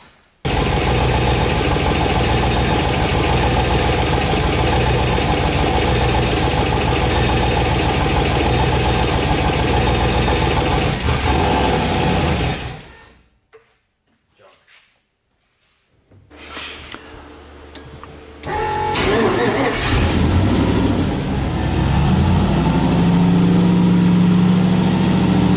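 A Mazda RX-7 rotary engine, freshly rebuilt and still showing some blow-by, idles loud and close after an idle screw adjustment, cuts out into near silence, then fires back up and settles into a rough idle.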